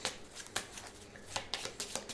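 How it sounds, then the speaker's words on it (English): A deck of cards for the Clank! Catacombs board game is shuffled quietly at close range, a series of soft, crisp riffles and snaps in uneven bursts. "All right, we're going to shuffle. I only have 2, so we need to shuffle."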